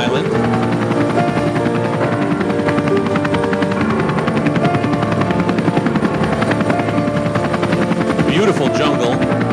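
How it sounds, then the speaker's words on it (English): Loud, steady helicopter rotor and engine roar throughout, flying to Ambrym, a remote jungle island in Vanuatu's volcanic island chain, with a constant dense thrum and no pauses. "We had to take a chopper to get to the island."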